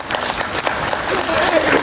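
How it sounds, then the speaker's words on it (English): Applause from the audience at the Game Connect Summit 2026 for the Game Connect lead, a steady, dense round of clapping over nearly two seconds with voices mixed in. "very loud round of applause?"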